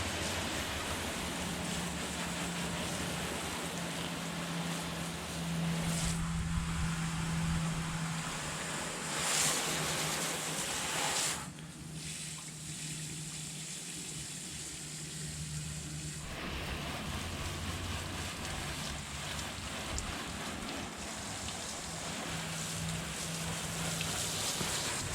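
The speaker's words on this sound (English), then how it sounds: "I'll put a little clip in of the hose spraying down the car before anything goes on" A garden hose sprays water steadily onto a car before a ceramic spray coating is applied, giving a continuous broadband hiss with a few shifts in tone as the stream moves across panels; no talking.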